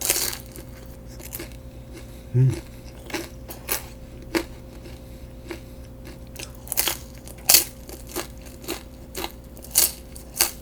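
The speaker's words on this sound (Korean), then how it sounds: "집에 와서 먹었는데도 바삭바삭 그 자체였습니다" Crisp bites and crunchy chewing on Korean fried dumplings bought from a street stall, with irregular close crackles and snaps scattered over roughly ten seconds and no talking.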